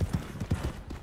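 Hooves of a mare in the video game Red Dead Redemption 2 clip-clopping at a steady walking rhythm, roughly six or seven soft close thuds over a second, with no voices.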